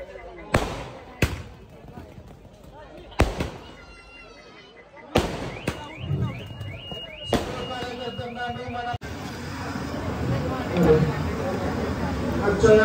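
Firecrackers burst at an outdoor Buddha Jayanti celebration: several loud, sharp bangs spaced a few seconds apart, then a denser stretch of crackling with a murmur of crowd voices in the background.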